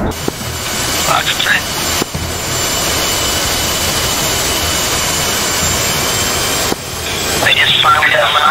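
A missile launch in the DCS World combat flight simulator, heard as a loud, continuous roaring jet rush that fills the whole stretch, with a voice speaking over it briefly near the end.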